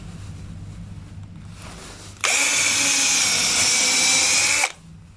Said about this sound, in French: je vais faire un trou avec un fourré à bois